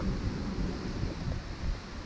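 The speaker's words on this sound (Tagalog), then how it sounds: "Lakas ng hangin." Strong wind blows during a typhoon at an outdoor hilltop shrine in Lucban, Quezon, a constant rough roar that buffets the microphone through the whole clip and has no speech over it.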